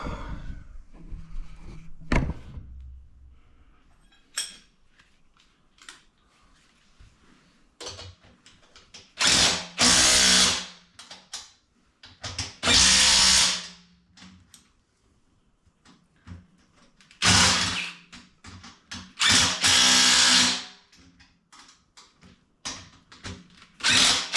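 A power tool drives bolts on a bead-lock wheel in several loud, close bursts a few seconds long, separated by quieter clicks and handling noises in a workshop.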